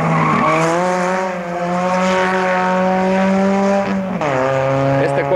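Race car on a track at full throttle through a corner, its engine note holding a high, steady whine that drops briefly near the end as the driver lifts; the car has a faulty second gear that pops out.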